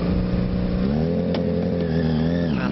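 The number 12 Rufix Racing endurance race car pulls into the pits at Anglesey with a loud, close engine drone that holds steady and then dips in pitch near the end.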